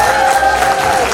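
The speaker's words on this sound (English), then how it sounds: "another round of applause to Justin for that wonderful story" An audience applauds in a dense, loud, continuous patter of many hands, a brief burst with no one speaking.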